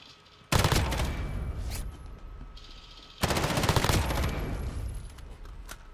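M13 rifle firing in Call of Duty: Modern Warfare: two long, loud bursts of rapid automatic fire, separated by a brief quieter gap, each trailing off with a few spaced shots.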